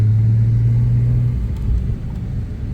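Lowered Porsche 911 with a TechArt-tuned turbocharged engine, a loud close low rumble with a steady drone that fades slightly and roughens toward the end.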